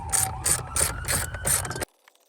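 A ratchet wrench loosens a battery terminal bolt on a 2021 RAM 2500, with about five rhythmic strokes of rapid close clicking before it stops abruptly.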